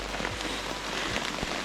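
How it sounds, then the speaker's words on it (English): Steady rain falls in a forest on Isle Royale, a dense, even patter of drops on leaves and the ground nearby. "I call this section the rainforest because we were in the forest and it's doing nothing but rain"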